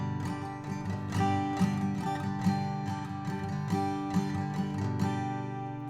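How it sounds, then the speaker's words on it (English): Guitar strumming a waltz-like down, down, up, down, up pattern for a song. Steady rhythmic chord strokes ring clearly on their own, at moderate level, with no voice. "The strumming pattern on this song is really cool."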